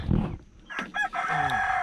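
A rooster crows near a forest hut, one full cock-a-doodle-doo rising and then holding a long bright call after a short lower cluck, close and clear with no talk.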